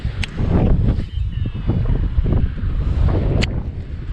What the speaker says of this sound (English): Wind's ripping and I can still cast right into it.